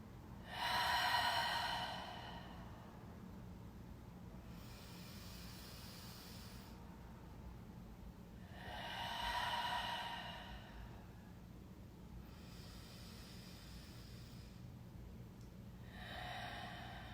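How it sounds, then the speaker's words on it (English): Three slow, deep breaths taken together at the close of a morning yoga practice, each a soft rush of air rising and fading, evenly spaced over steady low room hum, with no talking. "Closing our practice with 3 breaths together"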